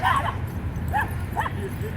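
Small dogs at a dog park bark and yip in a few quick, sharp bursts, mid-distance, over steady outdoor background noise.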